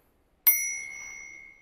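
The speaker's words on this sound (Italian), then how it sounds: "questo è il suono del campanello" A single bright ding from a handlebar bell on a Bafang Ananda e-bike, struck once and ringing on with a clear sustained metallic tone that slowly fades, heard alone and close.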